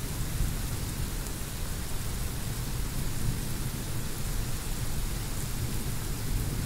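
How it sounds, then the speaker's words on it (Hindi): Heavy monsoon rain in Uttar Pradesh, India pours down in a dense, unbroken roar, with low rumbles of thunder rolling underneath. "आज बहुत ज़्यादा बारिश हो रही है, सारा भरता जा रहा है पानी जगह जगह।"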